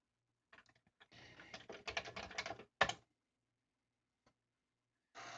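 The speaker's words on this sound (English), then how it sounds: "I had to manually type in the file I want to assemble" Keys clatter on a Commodore 64 keyboard in quick uneven bursts, a dense run of close clicks followed by one sharp stroke, a long pause, then a final flurry of typing.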